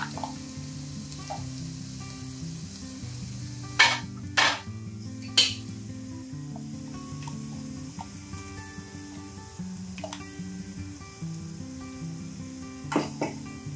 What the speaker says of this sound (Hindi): अब अच्छे से इन्हें हम भून लेंगे ताकि जो प्याज है और अदरक लहसुन है वो अच्छे से भून जाए